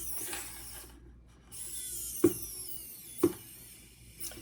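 A tiny screw is worked into small metal bag hardware with soft scraping turns, broken by a few sharp clicks and a faint ratcheting grind, close and quiet.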